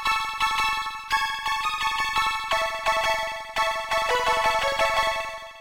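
Chords from a Poison synth plugin ring out as layered sustained tones, shifting every second or so in a slow, steady accompaniment with no voices.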